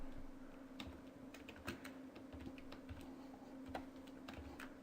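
Rapid typing on a computer keyboard while writing PHP code, with quiet, irregular clicks over a steady low electrical hum.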